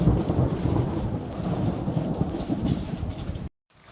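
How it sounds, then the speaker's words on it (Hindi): Steady rainfall in a mountain village in Uttarakhand, a dense, continuous broadband wash with low rumbling underneath, fairly loud and close, cutting off abruptly near the end. "बारिश की बूंदाबांदी चल रही है।"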